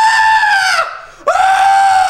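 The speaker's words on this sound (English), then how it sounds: "Keep screaming." A person screams at full power, close and very loud. Two long sustained shrieks are separated by a brief dip as a breath is taken.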